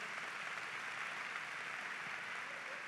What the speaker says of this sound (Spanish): ¿Por qué das un fuerte aplauso a Dios si estás feliz el día de hoy?